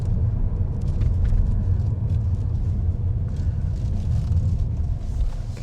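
Smart #1 electric car driving through a chicane, heard as a low, steady road rumble and tyre noise from inside the cabin, with no engine note.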